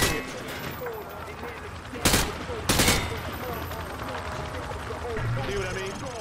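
Hip-fired automatic gunfire in Call of Duty Modern Warfare 3, a dense, continuous rattle of shots with two sharper, louder bursts partway through, heard over constant battle noise.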